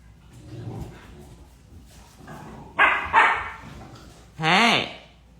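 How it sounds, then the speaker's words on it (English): A puppy barks near the mic: a couple of sharp yaps, then a longer whining bark with a rising pitch. Faint talk and room noise come before it. "puppy"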